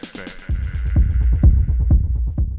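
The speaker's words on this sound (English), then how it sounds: "we have a background percussion group with two sounds layered" Layered background percussion in an electronic track, a low-end pulse and a higher, brighter element, running as a steady throbbing rhythm after a soft start, with repeated thumping hits.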